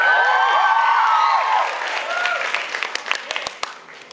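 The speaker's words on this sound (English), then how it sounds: "It's very flattering, but you can clap after you like it." Audience applause at a live Wong Fu Productions event in Manila, a crowd clapping and cheering with whoops, loud at first and tapering into scattered claps over a few seconds.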